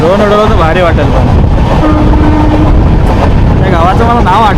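The Jamnagar Tirunelveli Express rolls along the Konkan Railway with a loud, continuous rumble and rattle, while a person talks over the noise.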